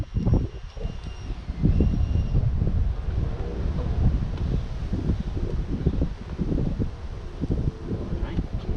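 Wind blows across a microphone outdoors while a 2019 Honda Civic hatchback LX is worked on, a steady low rumble with irregular gusty bursts, fairly quiet overall.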